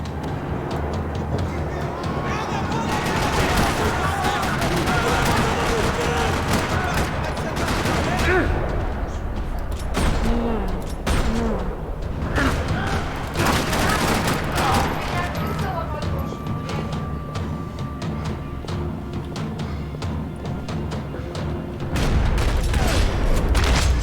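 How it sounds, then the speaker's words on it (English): Heavy gunfire rattles through a parking lot in the video game Max Payne 3, with dense bursts and booms sustained throughout, loud and close, under a game soundtrack with voices. "Another parking lot rattling with gunfire."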